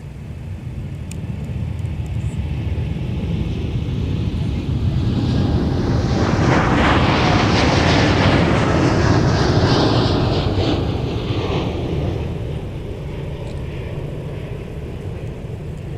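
A KLM heavy jet airliner takes off at MSP airport, its broad engine roar swelling to a loud peak midway and then easing off as it climbs away, with steady rumble throughout.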